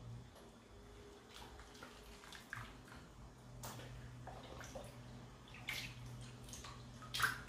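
Cold tap water runs over cabbage leaves being prepared for Turkish stuffed cabbage rolls, a soft continuous splashing and trickling with scattered clicks and handling noises, fairly quiet and close.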